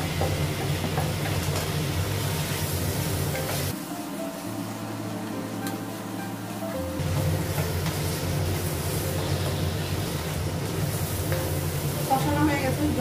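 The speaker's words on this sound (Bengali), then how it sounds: "ভেজে নিব মশলাগুলো।" Spice paste with turmeric, chilli powder, a little water and tomato frying in a pan, giving a continuous close sizzle. It briefly drops and changes tone midway, and faint background sounds run throughout.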